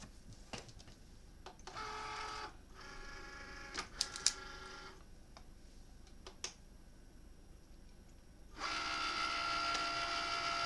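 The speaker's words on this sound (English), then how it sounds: "I'm just working behind the scenes with my Cricut Maker" A Cricut Maker cutting machine runs in bursts, its motor whirring and carriage buzzing in start-stop passes with brief clicks between, close by and moderately loud, no voices.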